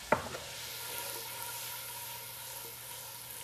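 Half a stick of butter sizzles softly in a hot pan as it is stirred, with a light tap at the start and a steady, quiet frying hiss throughout.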